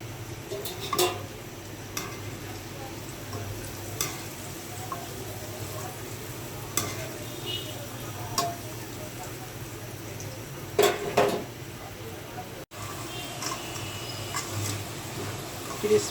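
French fries sizzle steadily in hot oil in a home kitchen, a soft continuous hiss broken by occasional sharp clinks of a utensil against the pan.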